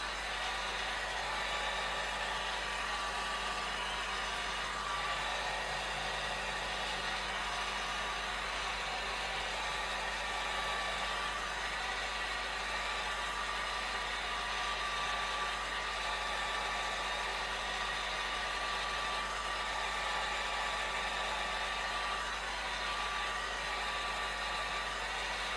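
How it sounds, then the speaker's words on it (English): A hair dryer blowing alcohol ink across a surface runs as a steady, continuous airy whir with a constant motor hum, close and unbroken throughout with no talking. "just put some alcohol and take it inside towards the darker part with your dryer"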